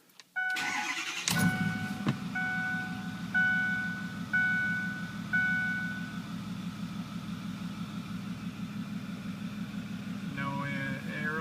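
A 2008 Ford F250 diesel pickup cranks briefly and catches, then settles into a steady, close rumbling idle, with a series of electronic chime beeps sounding during the first few seconds.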